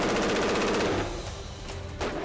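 A Sig-Sauer SIG-516 AR-platform tactical rifle fires in sustained rapid automatic bursts, loud and close. There is a brief pause and then a final shot.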